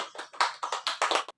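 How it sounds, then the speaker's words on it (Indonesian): Students in a fifth-grade classroom clap their hands in a brief, lively round of about seven quick claps, close by and alone with no talking. "Ya, tepuk tangan untuk kita semua."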